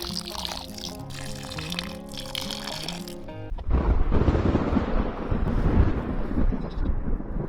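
Water is poured from above onto loose soil in a bucket planted with potatoes, a loud splashing, gurgling pour that starts partway through after a stretch of background music and continues steadily to the end.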